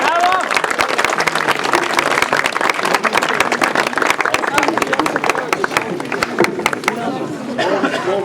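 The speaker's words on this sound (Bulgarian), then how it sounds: "аплодисменти" An audience claps and cheers at an awards ceremony for a village running race, with dense, sustained applause mixed with crowd chatter, fairly loud and close, easing slightly toward the end.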